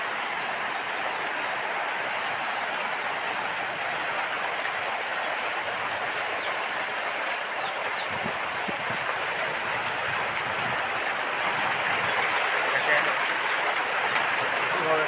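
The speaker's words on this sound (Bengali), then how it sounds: "চাল বেয়ে রিমঝিম ঝিরি ঝিরি বৃষ্টি করতেছে" Rain falls on a tin roof in Bangladesh, a constant, even patter and hiss that holds steady throughout without distinct individual drops.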